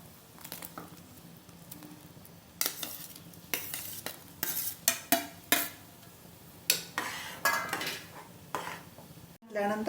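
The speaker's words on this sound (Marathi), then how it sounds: "आपण आता हे सर्व पनीर त्यामध्ये घालू" Fried paneer goes into boiling gravy in a pan, with a run of clattering stirs and spoon-on-pan knocks over a soft, steady bubbling sizzle, close and moderately loud.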